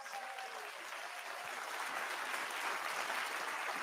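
An audience at an evening talk breaks into steady, sustained applause, a soft, even wash of many hands clapping at a distance with no voices over it.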